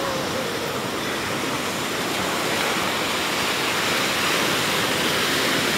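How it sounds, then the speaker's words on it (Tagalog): Strong sea waves surge and wash over rocks at a tidal pool in Kasiguran, Aurora, as a continuous loud, broad rushing roar with no breaks. "Para lakas ng alon dito"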